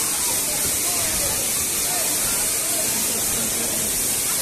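Namaste Falls pours down in a dense, continuous roaring hiss of falling water, close and loud throughout.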